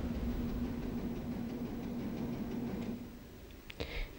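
A 1969 London Underground Victoria Line train gives a steady low rumble and hum that eases off partway through, followed by a few brief clunks and a sharp knock at the end.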